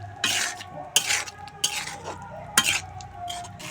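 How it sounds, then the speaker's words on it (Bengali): Potatoes with spices and ground tomato being stirred in a pan on a dhaba-style egg curry stovetop: spaced, sharp scrapes and clinks of a spatula against the metal over a faint, quiet sizzle. "সব কিছু দিয়ে আলুর সঙ্গে ভালো করে মশলা কষিয়ে নেব।"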